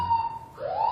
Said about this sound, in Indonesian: ini bunyi nanti alarmnya.